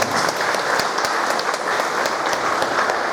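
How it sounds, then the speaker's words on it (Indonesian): Steady applause from a congregation at a church wedding ceremony, dense clapping that holds at an even level throughout. "Tepuk tangan untuk mereka."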